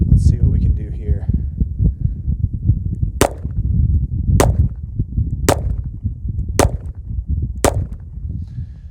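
Five sharp gunshots from a Colt Detective Special revolver ring out at the range, evenly spaced about a second apart, each a loud crack over steady background noise, with someone talking before the shots.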